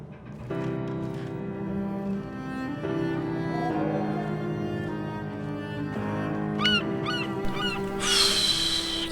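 A bird in the video game Dear Esther gives a rapid series of honking calls over a sustained tonal game soundscape, ending in a louder noisy burst, with no voices.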